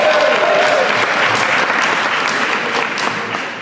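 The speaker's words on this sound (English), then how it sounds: "so let's give them a round of applause." Sustained crowd applause at a UK gospel artists and professionals awards ceremony, loud and dense throughout, tapering slightly toward the end.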